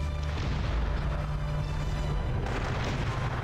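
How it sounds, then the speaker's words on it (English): Mortars fire in the real-time strategy game Cossacks: Back to War, a steady low rumbling barrage of booms under a constant noisy battle din. "I'll now start firing all my mortars"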